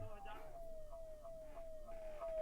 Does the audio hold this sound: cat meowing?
no